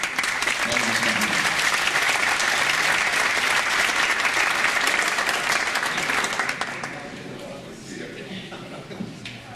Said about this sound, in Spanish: Lo recibimos nuevamente con otro gran aplauso al maestro